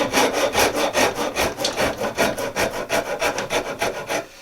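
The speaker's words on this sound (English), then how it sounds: "going to be rasping" Steady back-and-forth strokes of a rasp shaping a wooden hatchet handle for a Norlund Hudson Bay head, loud, close and rhythmic, about four strokes per second with no talking.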